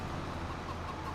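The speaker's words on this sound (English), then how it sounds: "Chickens? Yeah. 2 chickens," Chickens clucking in Farming Simulator 25, a pair of hens and roosters standing in a field, heard as a soft, steady murmur of low fowl clucks at moderate distance with no talk.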